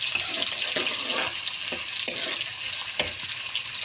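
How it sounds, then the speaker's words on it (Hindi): Sliced onions fry in hot oil with toasted garam masala for Lahori chikar cholay, a steady bright sizzle with a spoon scraping and stirring through the pan in irregular strokes, close up and alone. "अब हमने अच्छी तरह से चमची से मिक्स कर लेना है प्याज को"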